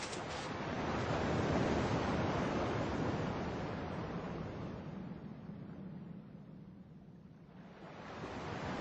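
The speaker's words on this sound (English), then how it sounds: "At least the waves sound the same." Ocean waves washing onto a shore in the Kingdom Hearts video game, a broad rushing surf that swells, recedes, then rises again, with no talking.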